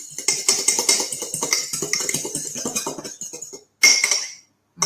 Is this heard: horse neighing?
no